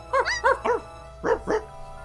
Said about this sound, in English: Wow, that's Pluto's barking.